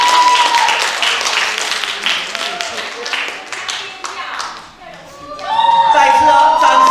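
Applause from the audience at a church Christmas party: a thick burst of clapping for about four seconds that thins out, after which a voice comes in over a quieter room.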